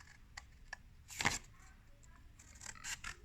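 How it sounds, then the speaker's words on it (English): Scissors snip through paper while making a box fold, a few quiet, sharp cuts with one louder snip near the middle and soft rustling after. "I'm going to cut."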